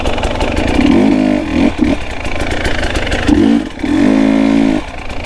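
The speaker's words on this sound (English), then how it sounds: "Like it literally just lugs and lugs and lugs, and it will not stall you out." A KTM 300XC two-stroke dirt bike engine lugs at low revs on technical single-track woods riding, a close, loud, continuous chugging drone that swells in two longer pulls, with no talk.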